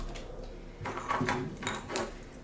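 A drawer holding tea infusers and tea storage items slides open with a soft rumbling scrape and faint rattling of its contents, close by against quiet room noise.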